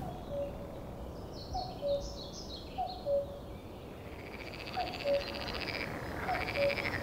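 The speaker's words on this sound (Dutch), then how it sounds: "Ik hoor heel veel kikkers, maar ook één koekoek." Frogs croak in regular, evenly spaced calls at a moderate distance, with faint birdsong and an occasional rising cuckoo call behind them, in wet woodland in the Weerterbos, Netherlands.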